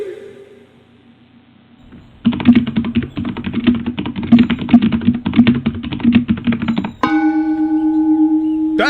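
Rapid typing on a computer keyboard during a Dance Mat Typing game, a brisk, steady run of close key clicks over a faint background tune, ending in a sustained bell-like chime.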